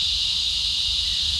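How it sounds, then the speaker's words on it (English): Cicadas drone outdoors on a summer morning at a farmyard, a loud, continuous high-pitched buzz with no break, alongside faint low rumbling. "cicadas are really loud, but hopefully you can hear."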